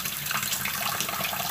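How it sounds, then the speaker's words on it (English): Water running and splashing steadily into a cooking pan while preparing vegan taco filling, a close, continuous gushing pour with no talk. "add a little bit of water"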